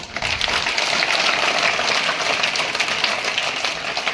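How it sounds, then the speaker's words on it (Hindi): At a school exam-result distribution, an assembled audience claps loudly and steadily for a top-ranking student, a continuous dense round of applause with no talking. "इनके लिए खूब तेज ताली बजाओ।"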